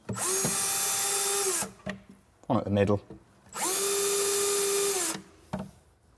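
Two long, loud bursts of a power drill whirring steadily while drilling holes in a cabinet for a larder runner, each lasting over a second, with a brief spoken phrase between them.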